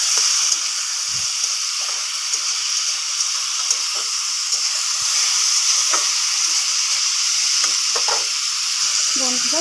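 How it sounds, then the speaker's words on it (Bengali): Ridge gourd frying in a pan with a steady, continuous sizzle throughout, with faint occasional clicks of stirring and no talking. "আলুটা ভাজা হয়ে গেলে আমি এবার ঝিঙ্গাটা ভেজে নিচ্ছি একটুখানি।"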